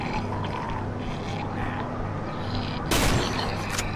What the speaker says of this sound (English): I just keep shooting him